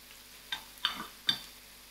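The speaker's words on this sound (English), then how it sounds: "I'll allow this to fry till it's soft" Onions fry soft in a pan for a vegetarian brinjal curry, with a quiet sizzle broken by three distinct stirring scrapes or spatters, close and faint, no talking.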